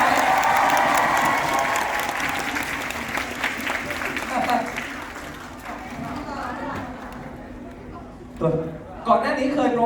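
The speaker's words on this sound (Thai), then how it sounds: "ปรบมือให้" An audience at a Thai film premiere breaks into applause and cheering, a dense clatter that fades over several seconds while voices and a microphone speaker talk over and after it.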